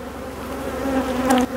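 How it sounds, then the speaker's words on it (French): Honeybees buzz densely in a hive packed with bees during swarm making on the Mediterranean coast, a steady close drone with a rising whine near the end. "elle est blindée en abeille quand même"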